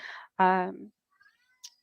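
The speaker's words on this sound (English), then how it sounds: "My cat, I don't know if you can hear that." A domestic cat gives a clear, close meow with a rising then falling tone, framed by brief human voice fragments and a faint high squeak near the end.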